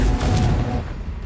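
The Confringo explosive spell goes off in Hogwarts Legacy as one loud, booming burst that fades quickly into a rumbling tail.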